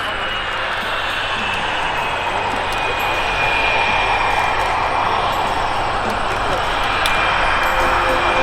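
A CF-18 Hornet fighter jet's engine roars steadily and loudly throughout, a broad rushing whine with a high tonal edge, as it taxis past nearby.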